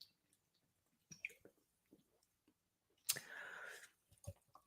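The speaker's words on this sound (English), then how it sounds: "Seltzer water." Seltzer water fizzes in a close, bright hiss lasting about a second, set among scattered small clicks and handling noises in an otherwise quiet room.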